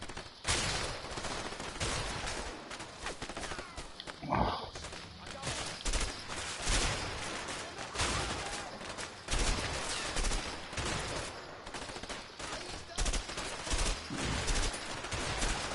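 Gunfire in the video game A Way Out comes as dense, rapid bursts and volleys across the whole stretch, loud and continuous, with players talking faintly underneath.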